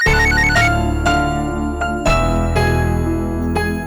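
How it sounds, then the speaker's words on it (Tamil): A phone ringtone rings loud and close, a bright electronic melody of repeating tones that restarts in short phrases, with no one speaking. "அப்பா போன் அடிக்குது."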